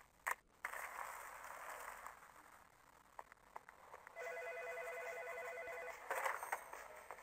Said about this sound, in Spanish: Los teléfonos han estado sonando sin parar.